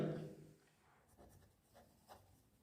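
A pen scratches across paper while a geometry problem is worked out for a math lesson, with a few faint, short strokes near the start and later, quiet and close, no talking.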